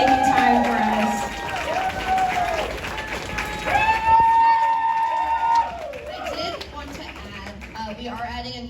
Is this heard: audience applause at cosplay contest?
yes